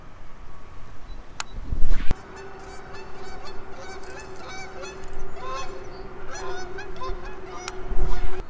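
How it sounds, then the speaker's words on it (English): A Canada goose beside a fishing pond honking repeatedly in a rhythmic run of calls, loud and nearby, with a couple of sharp handling thumps around it. "Nothing like a good old Canadian goose to brighten your day."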